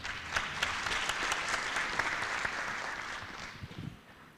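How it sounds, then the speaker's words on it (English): Sustained audience applause fills a conference room at an Internet Governance Forum session, steady dense clapping from a large crowd that holds level and then thins slightly toward the end. "So a round of applause to everyone,"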